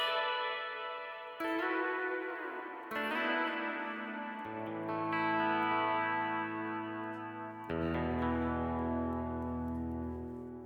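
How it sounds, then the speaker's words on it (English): Sustained Telecaster guitar chords through a Line 6 POD Express space reverb ring out drenched in lush, spacious reverb, each new strum blooming and washing into long shimmering tails. "the next one is called a space reverb"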